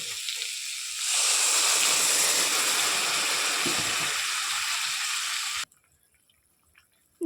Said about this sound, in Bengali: এবার আমি দিয়ে দিব হচ্ছে জল।